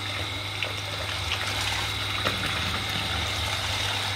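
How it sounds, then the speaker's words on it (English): Water pump pulling water from a bucket, a steady low motor hum under a constant trickling, splashing wash of liquid, close and fairly quiet. "I'm going to be pulling water from this bucket with this pump"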